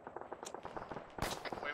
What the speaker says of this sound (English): Oh god, somebody just got shot.